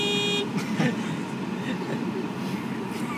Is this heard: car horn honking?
yes